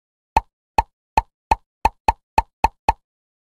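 Soap bubbles pop one at a time when tapped in a children's video game, nine short, crisp plops spaced fairly evenly and then slightly quicker, each standing alone against silence.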